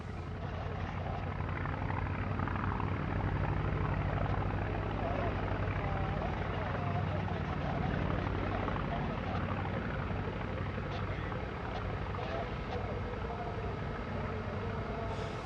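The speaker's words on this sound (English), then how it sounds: "Next on show is the Polikarpov P-02." A Polikarpov Po-2 biplane flies at an airshow for the Russian Air Force 100th anniversary, its engine droning steadily and continuously at a distance under faint outdoor noise.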